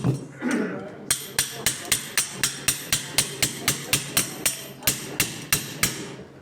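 A hammer repeatedly strikes a knee implant model, giving a long run of sharp, evenly spaced metallic knocks, loud and close, after a brief bit of voice at the start.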